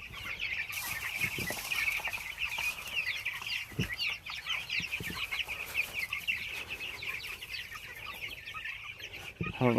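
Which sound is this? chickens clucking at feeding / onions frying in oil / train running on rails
chickens clucking at feeding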